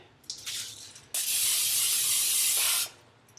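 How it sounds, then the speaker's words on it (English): A short puff of cooking oil spray, then a long steady hiss of the aerosol can spraying a baking pan for about two seconds, close up and alone. "spray the pan here"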